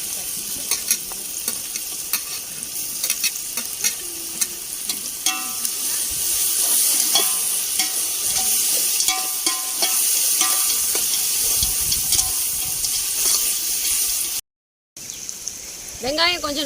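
Sliced large onions sautéing in a pan for paneer biryani, a loud steady sizzle with frequent scraping stirs and brief gaps, a voice speaking now and then over it.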